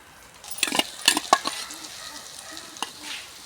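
Onions and fish pieces fry in a pan, with a few scraping, clinking stirs early on over a soft, steady sizzle that continues to the end.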